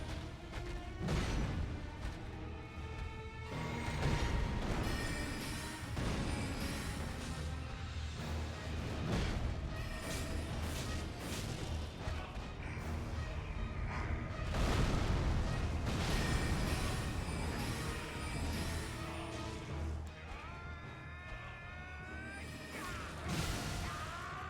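Heavy strafing gunfire and impacts in a video game, loud and continuous with dense booming bursts, crashes and rumbling explosions stretching across a long stretch of battle.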